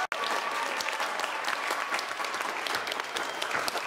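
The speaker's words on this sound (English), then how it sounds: "Please also give a huge round of applause for our second place finisher, Ian Reichel." Audience at a middle school geography bee competition applauds the second place finisher, a steady, dense wash of clapping from many hands that holds for the whole stretch without talk.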